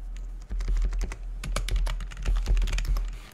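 Rapid typing on a computer keyboard, an irregular stream of crisp, close key clicks and taps continuing steadily for several seconds with no talking.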